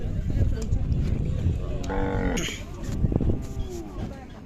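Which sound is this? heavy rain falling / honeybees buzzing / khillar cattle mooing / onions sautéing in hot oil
khillar cattle mooing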